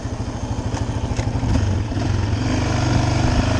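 A new 2022 Yamaha Raptor ATV engine idles with a rapid chugging pulse, then revs up into a steady, louder drone close by.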